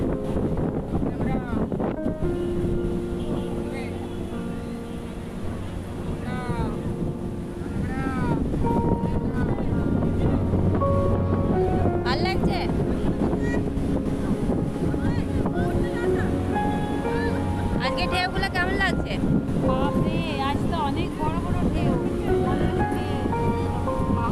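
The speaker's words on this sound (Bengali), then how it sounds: "ঢেউগুলো সত্যিই বড় বড় ছিল মানে হাওয়াটা খুব চলছিল" Steady rush of big ocean waves at Puri beach and strong gusting wind buffeting the microphone, with voices talking over it throughout.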